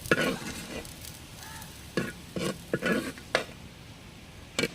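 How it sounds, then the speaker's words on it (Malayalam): Garlic and ginger fry in oil in a pan, with a low steady sizzle broken by several close scraping stirs of a spoon. "വെളുത്തുള്ളി ഇഞ്ചി അപ്പോൾ അതും കൂടെ ഒന്ന് ഒന്ന് ഫ്രൈ ചെയ്തെടുക്കാം"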